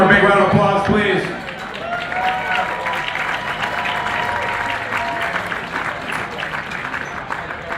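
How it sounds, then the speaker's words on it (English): Guests applauding at a wedding reception, clapping rising after a brief spoken introduction and holding as a steady, moderately loud patter with some crowd murmur underneath. "A big round of applause, please."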